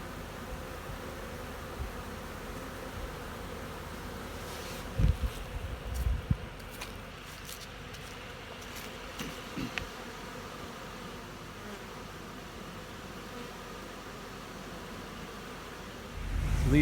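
Honey bees buzz around syrup feeders at small nuc hives outdoors, a continuous soft droning hum with a few brief knocks and rustles near the start and end.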